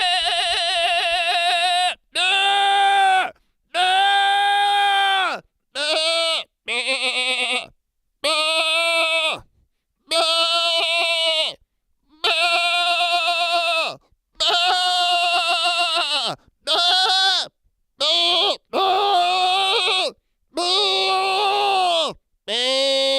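People imitate goat bleats in a string of long, loud, wavering voiced cries, about fifteen in a row with short pauses between them, close and alone.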